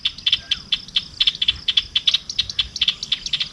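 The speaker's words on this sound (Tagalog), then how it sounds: "Naririnig niyo ba yung ingay niya?" A small sparrow-like bird chirps outdoors in a garden near young plants, giving quick bright tweets in irregular bursts of two or three notes, fairly close and clear over faint background hum.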